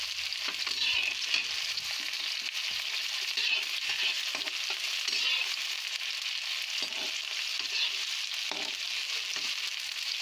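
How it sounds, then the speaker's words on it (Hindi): Chopped onions and cumin seeds fry steadily in hot oil, a continuous close sizzle with occasional soft stirring scrapes, no voices. "और इनको हल्का गोल्डन होने तक भूनेंगे"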